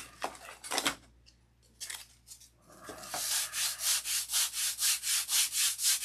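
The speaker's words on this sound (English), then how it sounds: "Better get the soft block. Here we go." A model airplane fuselage is sanded with a soft sanding block: a few scattered rubbing strokes, then a steady run of rhythmic back-and-forth sanding swishes, close and loud, with no talking.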